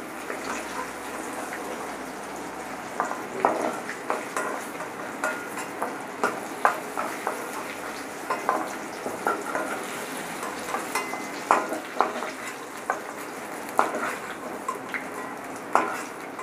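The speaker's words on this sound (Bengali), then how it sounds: "এবার আমি আলুটা তুলে নিচ্ছি।" Fried potatoes are lifted out of a pan of hot oil, with a constant frying sizzle under repeated clinks and scrapes of a utensil against the pan, close and steady throughout.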